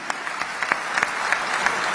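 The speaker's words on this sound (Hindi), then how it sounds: "आपकी तालियां बुलंद करें इस आंकड़े को।" An audience in a hall applauds during a poetry recital, a brief burst of dense clapping with scattered sharp claps standing out.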